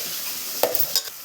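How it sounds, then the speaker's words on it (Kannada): Vegetables fry in a hot pan of tempering oil for a vegetable rice bath, giving a steady bright sizzle broken by a couple of quick stirring scrapes. "ಅದನ್ನು ನೀಟಾಗಿ ಬಾಡಿಸ್ಕೊಂಡು ಫ್ರೈ ಮಾಡ್ಕೋಬೇಕು"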